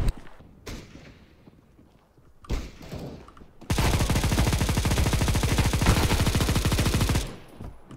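A big gun firing in the Counter-Strike video game: a few scattered shots, then a loud, rapid continuous burst lasting several seconds before it abruptly stops, close and with no voices.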